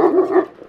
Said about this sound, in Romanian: Aia sunt câinii ciobănești normal.